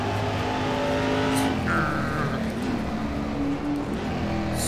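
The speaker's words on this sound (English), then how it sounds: "I love the sound of that V8 when we get out of the power." V8 Touring Car Masters race car engine in the rFactor 2 racing game at Adelaide, revving loudly and steadily throughout with a continuous droning roar.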